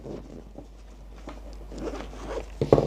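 Zipper on a compartment of an emergency backpack pulled open in several short, scratchy bursts, close and clear, ending in a quicker, louder pull.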